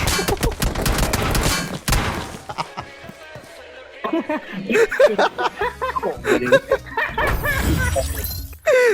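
Gunfire crackles in PUBG Mobile as shots hit a vehicle. A dense burst of sharp shots comes near at the start, then sparser bangs follow under excited talking and laughter.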